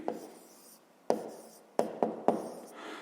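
Hand-writing a fraction: a pen scratches across paper in a few short separate strokes, close and quiet, with no voices.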